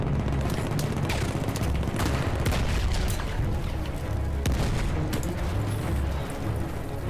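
Heavy Battlefield 1 combat with grenade blasts going off amid dense gunfire, a continuous loud barrage of booms and rattling shots filling the whole stretch.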